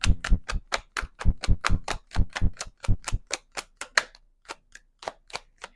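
A thick tarot deck shuffled by small hands, making a quick train of sharp, close card slaps and clacks that slows and thins out toward the end, with no voices.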